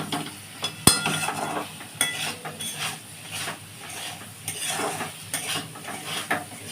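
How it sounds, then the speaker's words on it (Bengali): A turmeric and salt mixture is stirred in a pan for a coconut chochchori, with soft scraping and clinking of a spoon against metal repeating in an uneven rhythm, close and fairly quiet. "আচ্ছা, আমি নাড়ছি এটা।"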